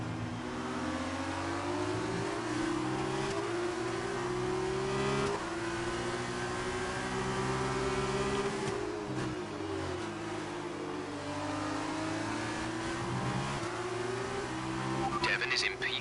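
A racing video game car engine revs and races, its pitch climbing and falling through gear changes in a continuous drone, with a commentator talking over it.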